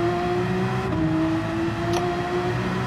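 Race car in Gran Turismo 7 on the Nürburgring, a loud steady engine tone whose pitch shifts slightly near the one-second mark as revs change, continuous and alone, with a brief faint click near two seconds.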